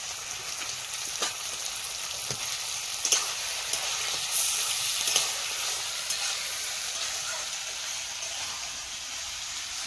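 Onion paste frying in oil with ginger-garlic paste, a soft steady sizzle with occasional spatters and stirring clicks, fairly quiet and close, without speech.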